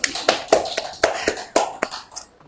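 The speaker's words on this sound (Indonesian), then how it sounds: "Tepuk tangan dulu" Hands clap in a short run of sharp, separate claps at an uneven quick pace, from an audience at a programming talk, fading out after about two seconds.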